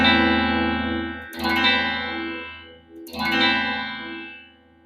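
Two strummed guitar chords ring out with heavy effects, each attack bright and sustained, the second following about two seconds after the first, with no talking.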